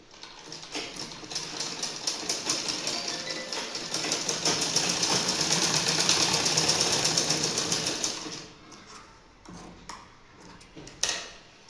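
Sewing machine stitching the side seam of a pair of underwear, a fast steady mechanical rattle of needle strokes running for about eight seconds, then stopping and giving way to a few scattered clicks and handling noises.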